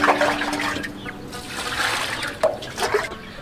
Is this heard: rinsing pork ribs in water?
yes